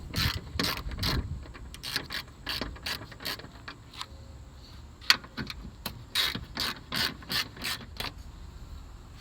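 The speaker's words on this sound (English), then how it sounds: "Then remove 10 millimeter socket here." A ratchet with a 10 mm socket turns a 2014 Prius bumper bolt: close, sharp clicking bursts in irregular runs, with short pauses between strokes and no talk.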